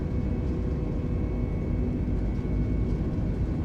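Airbus A320 engines roar steadily at takeoff thrust in Microsoft Flight Simulator 2020, a loud, continuous rumble with no talk over it.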